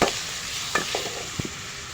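Masala being stirred and sautéed in a pan with tomato for a homemade seela fish curry, giving a faint, steady sizzle with a few soft scraping stirs close by.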